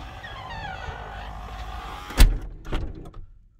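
Automatic trunk release on a Lincoln Town Car Signature: a steady electric motor whine runs for about two seconds, then a loud close thunk and a second softer knock as the latch lets go, with no talking.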